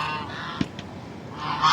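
A goose honks a few times in short, nasal bursts, fairly close, with farmyard background noise between the calls.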